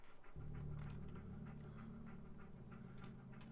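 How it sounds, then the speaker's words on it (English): A dog companion in the Fallout 4 video game pants steadily and rhythmically over a low droning game soundtrack, close and continuous. "Wow, you're really panting"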